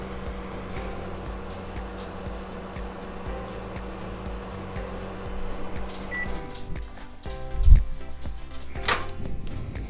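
A microwave oven heating food hums steadily at close range for several seconds, then the hum stops and gives way to a few sharp clicks, beeps and a solid thunk, like the door or keypad being worked.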